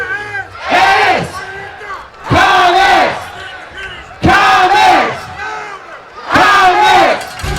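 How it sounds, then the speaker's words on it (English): A packed home crowd at a Clayton Comets high school football game in Nixon-Fowler Stadium chants in loud unison, four big rhythmic roaring bursts separated by short pauses. "And there is an impressive crowd here tonight. A packed house"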